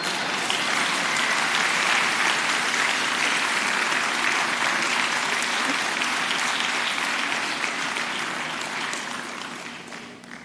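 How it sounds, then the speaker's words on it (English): Sustained, dense applause from a lecture audience, loud and steady throughout before tapering slightly near the end, with no speech over it. "the applause I get is much louder than this one"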